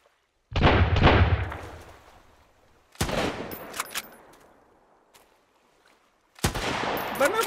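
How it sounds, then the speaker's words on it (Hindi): Rifle fire in the survival video game Sunkenland: three separate loud, close shots or short bursts, each ringing out and decaying over a second or two, with long gaps between them. "पांच ही शॉट वो एमओ बची है राइफल की यार"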